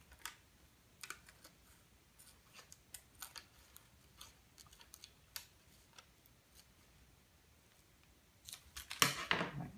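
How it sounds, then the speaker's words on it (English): Scissors trim Doculam laminate around its edge with a run of small crisp snips at an irregular pace, close and fairly quiet, ending in a louder rustling crinkle of the sheet. "I'm just gonna trim it all the way around."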